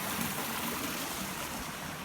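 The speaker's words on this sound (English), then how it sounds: "That's the gorge flowing down that way." A gorge stream at El Questro flows downhill in a steady, broad rush of water, loud and continuous with no voices.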